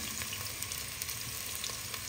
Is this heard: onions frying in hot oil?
yes